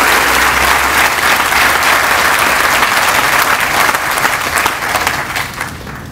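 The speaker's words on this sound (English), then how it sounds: "Darren Ledford, and Carol Burrs, please give them a round of applause for their investment and time." Sustained audience applause at a groundbreaking ceremony for a new children's hospital, a dense steady wash of many hands clapping throughout, loud and continuous before tapering slightly at the end.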